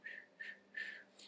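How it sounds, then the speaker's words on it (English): Four short whistled notes in a sing-song pattern, fairly faint, with brief pauses between them and no speech. "Boys must whistle."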